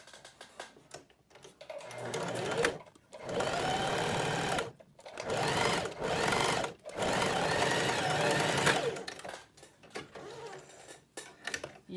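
A sewing machine stitches a blouse seam in several bursts of rapid, steady running with short stops in between, close and fairly loud.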